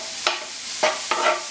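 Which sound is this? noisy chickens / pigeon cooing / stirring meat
stirring meat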